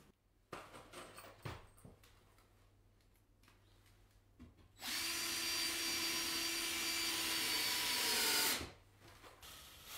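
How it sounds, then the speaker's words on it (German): A power screwdriver drives screws through a Lazio clay building board into a wooden stud frame, first with a few scattered knocks and handling sounds, then one loud, steady whirring run of several seconds that stops abruptly; no speech. "dann wird die Platte im Abstand von 25 cm montiert mit 4 Schrauben an der Linksseite und 3 Schrauben in der Mitte"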